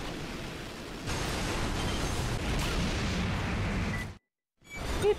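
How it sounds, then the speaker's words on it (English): Laser rifle shots striking the player's mech in the Armored Core: Verdict Day game on PS3, a dense, continuous roar of blasts and impacts for several seconds, cutting off abruptly before another short burst. "Keeps hitting me with the laser rifle."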